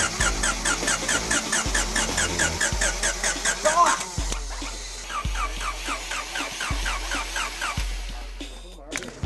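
An old used car's engine is cranked over and over, a rhythmic starter churn with periodic thumps and a squeal, loud and close, never quite catching.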